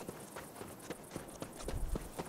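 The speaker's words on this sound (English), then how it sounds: "We're just going across the desert on a horse and no name." A horse's hooves clip-clop across desert ground in the video game Cyberpunk, a quiet, irregular walking rhythm of repeated hoof strikes.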